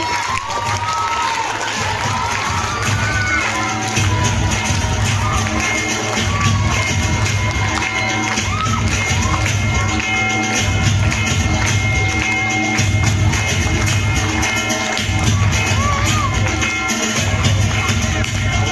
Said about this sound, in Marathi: जोरदार टाळ्या आणि